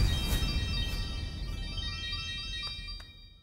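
A phone ringtone for an incoming call plays loudly and steadily, a bright melodic tone with repeating chimes fading slightly toward the end.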